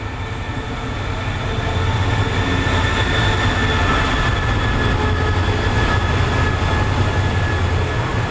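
An express train pulls in to Ratchaburi station in Thailand, a steady loud rumble of wheels and carriages rolling close by for the whole stretch, with no talk over it.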